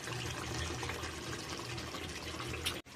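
Tamarind juice pours into a fish and brinjal curry in a pot, a steady close liquid splash and gurgle lasting a few seconds before cutting off.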